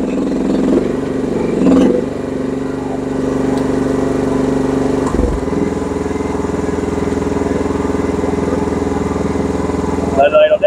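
A GroundHog BH14G Pro backhoe engine runs loud and close, holding a steady revving drone with brief surges before it settles.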